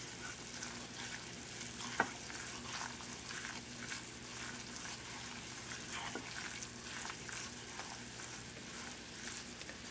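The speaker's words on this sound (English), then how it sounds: "Basically a roux with oil instead of butter. And we will want it to bubble for 1 minute." A roux of flour and oil bubbles and sizzles steadily in a pan while being stirred, with a continuous close frying hiss, faint scraping and one sharp tap of the utensil, no talk.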